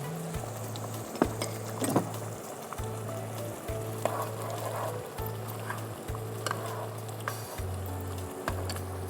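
Chicken curry made with coconut milk sizzles steadily in a pan after a spoonful of ghee is added, a close, continuous frying hiss with occasional stirring clinks and a low background hum, without speech.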